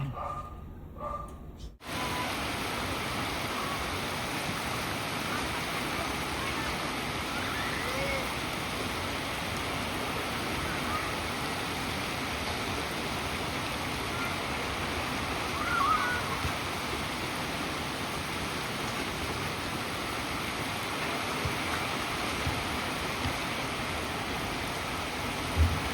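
Steady rain falls throughout, a dense, even hiss of drops on surfaces that holds almost unchanged after a brief quieter moment at the start.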